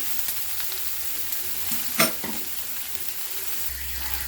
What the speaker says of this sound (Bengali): এটা নাড়াতে হবে যাতে পুড়ে না যায় এইভাবে নাড়িয়ে নিচ্ছি লাল লাল করে ভাজতে হবে